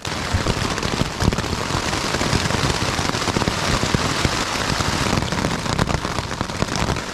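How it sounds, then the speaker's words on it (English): Heavy rain mixed with hail drumming steadily on a tent from inside, a dense, loud, continuous patter with sharp individual hits throughout and no talking. "Just as we got inside the tent, it's starting to rain."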